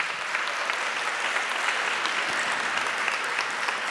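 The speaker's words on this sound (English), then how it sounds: "Let's give them one more round of applause" Audience at an evening school information session claps for students, a steady, even wash of many hands applauding throughout, moderately loud and without talk.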